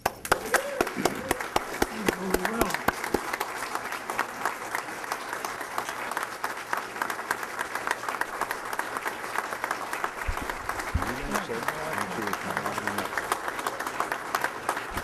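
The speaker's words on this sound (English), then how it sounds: "Now you can applaud." Audience applause at a Kiwanis award presentation, a long run of sharp, crisp hand claps from a modest crowd, steady and fairly close, with brief bits of voice underneath.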